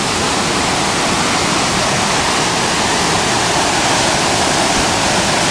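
High river water pours over a dam in Nidd Gorge, a loud, dense, unbroken roar of rushing water filling the whole stretch with no other sounds.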